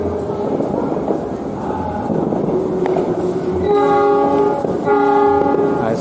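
Train horns from locomotives in Surabaya at New Year, including a CC206, blaring in long sustained chords over a rumbling crowd-like background, growing louder and overlapping in two stretches near the end.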